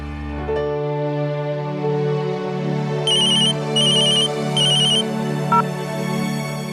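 A phone rings during a call in an Indian TV drama scene: three short bursts of a bright electronic ringtone repeat over a steady background music bed, with no talk.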